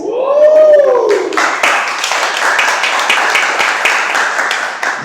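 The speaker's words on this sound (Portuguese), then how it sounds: "Mais aplausos!" Audience applause at a book launch event, dense clapping sustained throughout after a brief tonal sweep at the start, steady and moderately loud.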